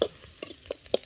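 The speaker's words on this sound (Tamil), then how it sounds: "வெங்காயம் வதங்கணும்." Onions sauté in a pan for a snake gourd gravy, heard as four soft, quick scrapes of a spoon stirring at an uneven pace over a faint, low sizzle.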